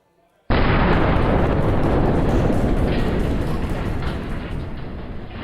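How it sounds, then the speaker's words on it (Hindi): A massive blast as more than 100 tons of explosives strike a Hezbollah tunnel in southern Lebanon in an IDF attack, erupting suddenly and loudly, then rumbling on as a dense, sustained roar that slowly fades. "100 टन से ज्यादा विस्फोटकों से सुरंग पर हमला हुआ है।"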